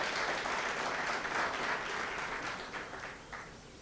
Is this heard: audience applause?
yes